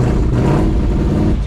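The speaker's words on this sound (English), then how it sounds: "Okay, get the revs up." A Ford 351 Cleveland V8 in an XD ute, fresh from a cam break-in start, runs loud and rough with a deep rumble and slight swells in revs over a short burst.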